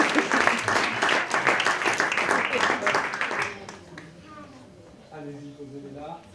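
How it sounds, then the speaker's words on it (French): A crowd at an improv comedy show applauds a volunteer, a dense burst of clapping for about three and a half seconds that cuts off, leaving quieter room sound and a voice speaking. "On peut applaudir monsieur."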